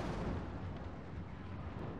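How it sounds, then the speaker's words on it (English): Flame cannons firing in a Total War Warhammer battle, a dense continuous roar of blasts and rumbling explosions with no clear separate shots, loud and unbroken throughout. "So the flame cannons are gonna start lighting them up."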